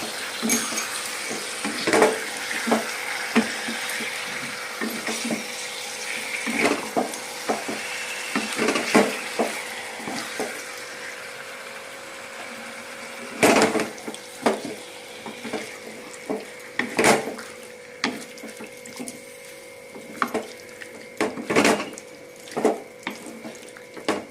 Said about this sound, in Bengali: এখন চিকেনটা মশলাগুলোর সাথে ভালো মতো কষিয়ে নেব আমি।